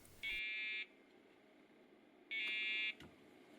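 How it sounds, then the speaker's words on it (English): A retro 386 motherboard's PC speaker gives two steady, loud electronic beeps, each about half a second long and about two seconds apart, with no other sound in between. "The PC speaker beeps periodically and probably asks for some"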